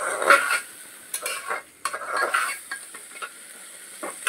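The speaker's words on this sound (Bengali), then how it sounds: "এখন ডালটা সুন্দর করে নাড়াচাড়া করে" Washed dal is stirred in a pot for vegetarian khichuri, a spoon scraping and clinking against the metal in uneven strokes over a soft sizzle, close and fairly loud with short pauses between passes.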